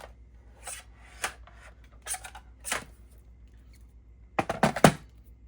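Scissors snipping through feathered craft material up close, a few scattered soft rasping cuts followed by a quick burst of rapid crisp snips toward the end, with no talking.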